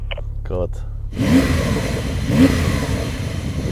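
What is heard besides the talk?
Porsche 911 Turbo S engine revving through upgraded exhaust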